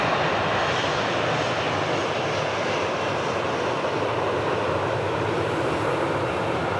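Jet engines of two airliners taxiing side by side on adjacent taxiways at Sydney Airport, a loud continuous broadband whine and rumble held steady throughout with no voices.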